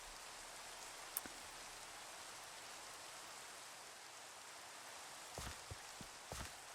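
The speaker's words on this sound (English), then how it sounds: "And now it's raining." Steady rain falls in the video game Minecraft, a constant soft hiss of drops with a few brief clicks and taps near the end.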